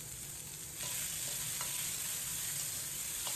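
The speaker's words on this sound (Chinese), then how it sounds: "先把蒜苔干煸一下" Garlic scapes dry-frying in a hot wok without oil, a steady close sizzle that grows louder partway through, with occasional stirring scrapes.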